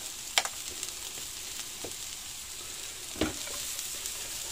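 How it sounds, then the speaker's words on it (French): Onions caramelizing with a little sugar in a pan on a camping-car stove give a quiet, steady hiss and fizz, with a couple of brief stirring scrapes rising above it. "Comme ça on va les faire caraméliser un peu."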